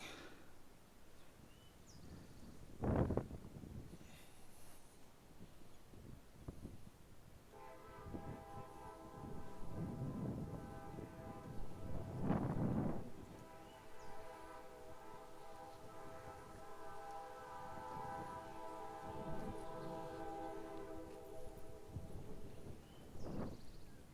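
A passing train sounds a long sustained horn, holding a steady chord for several seconds over the low rumble of the rolling cars, with heavy thuds before it and distant rail noise throughout, no talking.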